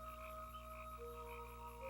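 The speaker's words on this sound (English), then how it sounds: "the air is filled with harmonizing sounds of tree frogs and crickets" Tree frogs croak on a humid summer night in Pennsylvania, a steady, faint chorus of overlapping calls with a continuous insect drone.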